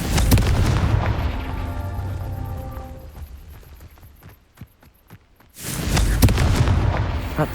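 Confringo spell blast in the game Hogwarts Legacy, a loud booming explosion that rolls out and fades into near silence before another heavy burst swells up, with no voice over it.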